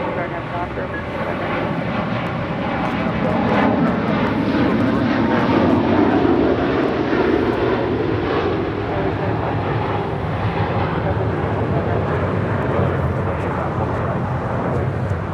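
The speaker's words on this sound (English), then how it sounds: "742 taking off to Doha on the A350 1000" Qatar Airways Airbus A350-1000 taking off from LAX bound for Doha, a loud broad engine roar swelling toward the middle and holding steady, with a voice speaking over the noise.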